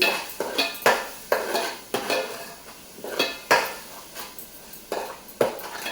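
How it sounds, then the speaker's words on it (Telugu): A spoon stirs coriander and cumin powder into frying onion paste for a chicken curry, giving rhythmic metallic scrapes and clinks against the pan over a faint sizzle. "ఇదంతా ఇందులో వేసేద్దాం వేసి ఇది కూడా బాగా కలపాలండి"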